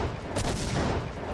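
Indian Army artillery guns firing during a military drill, a dense continuous roar of booming fire with overlapping blasts and no clear gaps between shots.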